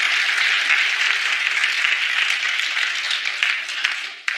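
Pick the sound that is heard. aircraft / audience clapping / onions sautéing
audience clapping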